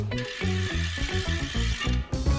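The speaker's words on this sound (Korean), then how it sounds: "그 라쳇 소리 나름 부분이고" The rear hub ratchet of a lightweight bicycle wheel gives a close, even run of rapid mechanical clicks that sounds like a freewheel spinning.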